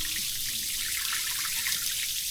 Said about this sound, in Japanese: 排水してます。